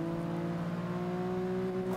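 BMW 235i engine droning steadily in Forza Motorsport 6 racing game, a loud continuous tone holding near-constant pitch with a slight rise, sounding much like a held gear with no clear shift break.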